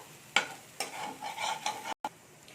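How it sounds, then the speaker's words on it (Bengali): Sliced beetroot and spices scraped and stirred in a pan for a vegetarian Mughlai paratha filling, with a sharp first scrape followed by a run of steady, close spatula strokes, a faint sizzle underneath and a short silent gap near the end. "এখানে আমি এবারে নেড়ে নেবো, একটু ভালো করে মশলাটার সাথে মিশিয়ে নেবো।"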